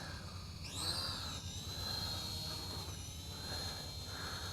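Syma X5UW-D camera drone lifting off on automatic takeoff, a steady high-pitched whirring buzz of small propellers that rises in pitch at spin-up, then holds level and close throughout.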